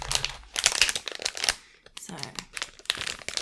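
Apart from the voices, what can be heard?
crinkling package of red beans being opened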